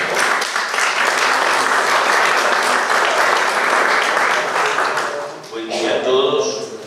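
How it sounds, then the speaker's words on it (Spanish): Audience applause at a debate on drug trafficking and corruption, dense steady clapping filling the room for about five seconds before tapering off, with a voice starting to speak near the end. "Un fuerte aplauso, por favor."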